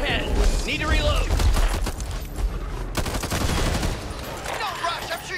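Rapid bursts of gunfire from the Back 4 Blood co-op zombie shooter, loud and dense throughout with booming low-end hits, mixed with game effects and a voice talking over the action.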